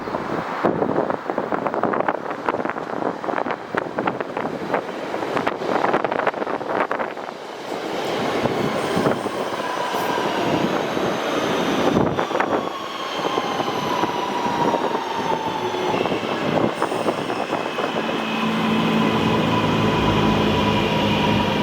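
A Cross City Line train near Erdington, Birmingham, rumbles steadily along the rails, loud and close, with a rising whine and some rattling, continuous throughout with no talking.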